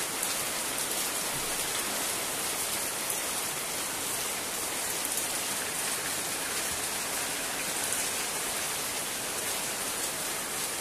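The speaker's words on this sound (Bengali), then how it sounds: "প্রচুর পরিমাণে বৃষ্টি হচ্ছে, প্রচুর পরিমাণে।" Heavy rain pours down on a village, a dense, even hiss of drops on surfaces that stays loud and constant throughout, with no voices.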